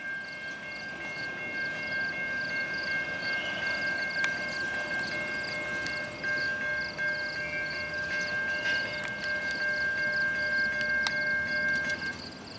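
A CN freight train rolls past at Ladysmith with steady rumbling, while a sustained high-pitched electronic tone and beeping whine from the end-of-train device hold over the noise.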